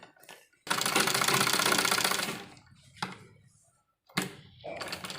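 Stitching old dupatta fabric into a kurti on a sewing machine: one long loud burst of rapid mechanical whirring, then a short pause and a couple of briefer runs.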